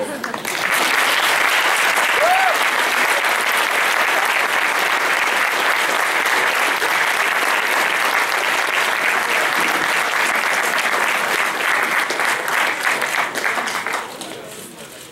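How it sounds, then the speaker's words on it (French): Sustained applause from a university audience in Montréal welcoming a speaker to a noon talk, a dense steady wash of clapping lasting about fourteen seconds before fading, with a brief murmured voice early on. "ce serait intéressant que vous l'applaudissiez un minimum"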